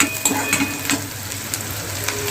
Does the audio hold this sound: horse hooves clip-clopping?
no